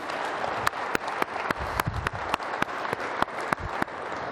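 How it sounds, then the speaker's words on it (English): An audience at a MUFON conference in Colorado applauds steadily, with dense clapping throughout and sharp individual claps standing out in a regular pattern, fairly close and with no talking. "I'd like to have a round of applause for John Schuessler and the entire staff at"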